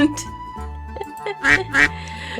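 Cartoonish duck quacks from the video game Pre-Odyssey ring out in short bursts over a steady synthesized background tone, with a couple of stronger, louder honks near the end.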